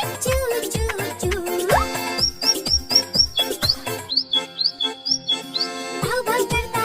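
Bright, high cartoon bird chirps in quick repeated bursts over a bouncy kids' rhyme, the tweets standing out clearly above the music.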